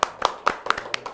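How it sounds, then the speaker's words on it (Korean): A few people clap in a small studio during a Korean talk segment about Gyeonggi Province special judicial police, giving about six distinct, fairly sharp claps in an uneven rhythm, close and moderately loud, with no talk over them. "와, 이 박수 한번 쳐야 됩니다."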